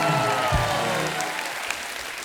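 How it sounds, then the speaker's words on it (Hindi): Audience applause at a film promotion event for a Punjab-themed movie, a dense steady wash of clapping that fades gradually over a couple of seconds, with a brief low thump early on. "एक बार जोरदार तालियां हो जाएं पंजाब के शेर के लिए।"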